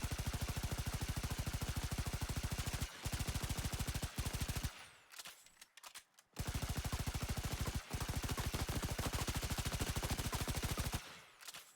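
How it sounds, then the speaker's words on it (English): Rapid full-auto gunfire in Warframe with the metronome ability active, a dense, fast, evenly timed stream of shots that breaks off for short pauses and then resumes, loud and close. "when I activate the metronome ability and shoot full auto"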